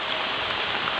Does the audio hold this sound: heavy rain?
yes